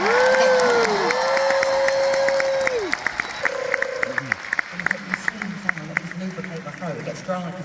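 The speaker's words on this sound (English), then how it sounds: "please give a massive round of applause to the girls" Big arena concert crowd applauding and cheering for three backing singers brought on stage, a broad wash of clapping and shouts with whoops rising over it, loud and sustained throughout.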